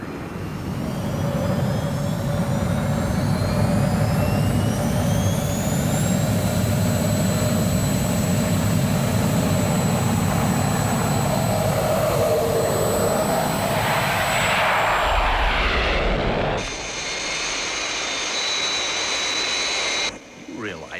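Jet engines on a large aircraft from the Thunderbirds episode Trapped in the Sky run at full power with a loud, steady roar and rising whine, then cut abruptly to a high sustained tone near the end.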